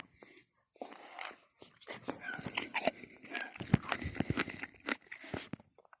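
Crisp, repeated crunching and wet chewing of a firm peach being bitten close to the microphone, with some mouth noise throughout.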